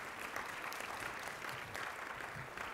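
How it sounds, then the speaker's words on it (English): Steady applause from an audience, continuous clapping at moderate distance, fairly quiet and without talking. "I think that deserves a round of applause."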